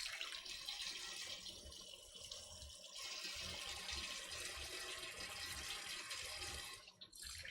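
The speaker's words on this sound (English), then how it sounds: "And get our heathen garlic press rinsed off." Running tap water splashes steadily into a kitchen sink while a garlic press is rinsed under it, a continuous close hiss that cuts off briefly near the end.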